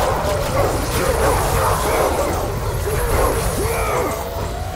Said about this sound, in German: Oh, viele Hunde.